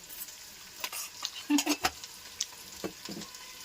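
Stirring a potato vegetable dish in a pan with added sugar, giving soft sizzling under a few distinct scraping stirs and clinks of a utensil, close and fairly quiet with no talking.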